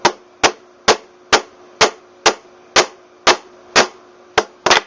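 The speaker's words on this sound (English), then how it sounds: "take the drill bit and shove it in like this and just pound it in" A drill bit is hammered into a bullet shell casing, giving about eleven sharp, loud metallic strikes at a steady rhythm of roughly two per second. Each blow rings briefly, and the last two land close together.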